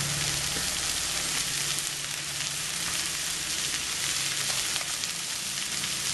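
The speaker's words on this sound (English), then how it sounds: "Just need to fry this." Cauliflower frying with crushed peppercorns in a pan gives a steady, dense sizzle that holds evenly throughout, close and fairly loud, with no voices.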